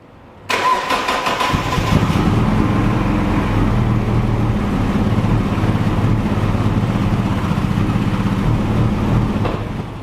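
A cheap Mazda MX-5 engine fires up abruptly and settles into a loud, steady running note that sounds rough and lumpy, close by and with no talk.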